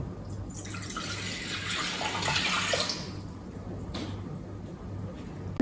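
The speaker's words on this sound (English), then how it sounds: "Now we're putting the water into the bowl" Room temperature water pouring into a bowl for a bread recipe, a steady splashing flow that swells then fades, with a short clink afterward.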